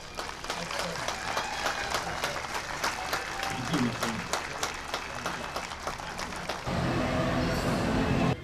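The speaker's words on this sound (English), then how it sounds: "Join me in giving a round of applause to Sergeant Randall Ballinger." A crowd at a city event applauds to honor a sergeant: sustained, fairly loud clapping from many people, with a brief lower rumble near the end.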